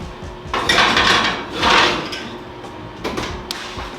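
A pan of cottage cheese pizza goes back into a home oven, with metallic scraping and sliding as the tray moves across the rack, a clatter, then a soft thud as the oven door shuts.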